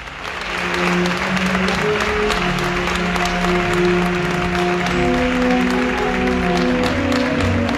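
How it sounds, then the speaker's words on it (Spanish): Audience applause at a Valencian traditional dress fashion show, steady sustained clapping over several seconds with held music tones underneath. "fuerte aplauso, por favor"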